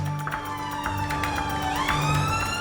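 Ambulance siren wailing loudly and close, a sustained rising and falling electronic tone with repeating pulses, heard inside or alongside the vehicle without any talking.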